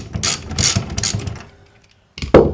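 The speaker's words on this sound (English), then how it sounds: "So pop your socket set on the top there, move it to open, and then squeeze it off." Socket set ratchet turning an underfloor heating manifold actuator pin, several quick close clicking ratchet bursts, a pause of near silence, then one louder sharp click.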